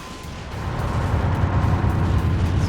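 Video game Metal Wolf Chaos: fireworks produce a dense, continuous rumble of overlapping booms and crackles that stays loud throughout the short burst.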